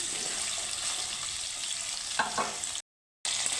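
Potatoes fry in a pan with salt, making a loud, close, continuous sizzle with a couple of stirring scrapes before it cuts out briefly and resumes.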